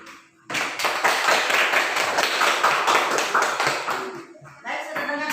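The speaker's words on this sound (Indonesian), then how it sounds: "Kita tepuk tangan dulu untuk Hendrik." A classroom of children claps for a student, a dense burst of applause for several seconds that fades into scattered claps, with talking near the end.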